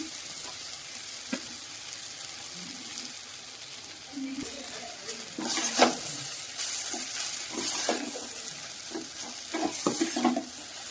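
Chapati pieces are stir-fried in a pan with garam masala and pepper powder, giving a soft steady sizzle broken by scraping and stirring bursts and clatters from a utensil, fairly quiet and close.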